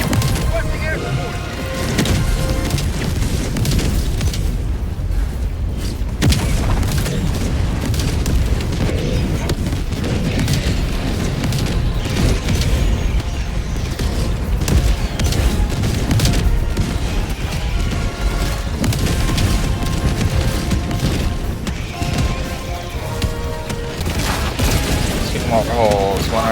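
Air support strikes in Helldivers 2, a dense, continuous barrage of booms, gunfire and explosions lasting the whole stretch, with voices talking underneath.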